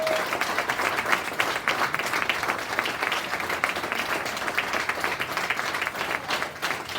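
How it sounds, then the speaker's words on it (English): A crowd applauds candidates at a junior fair king and queen coronation, a steady, moderately loud patter of many hands that continues evenly for several seconds. "Round of applause, ladies and gentlemen."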